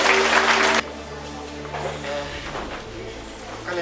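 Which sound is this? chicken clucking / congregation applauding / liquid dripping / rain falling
congregation applauding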